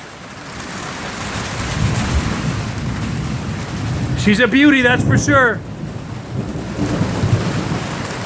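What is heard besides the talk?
thunderstorm with heavy rain and thunder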